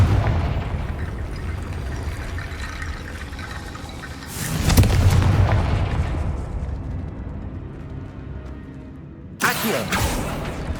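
A Confringo fire-blast spell in Hogwarts Legacy bursts with a deep, rumbling explosion midway, followed later by a second sharp blast at the end over a steady ambient roar.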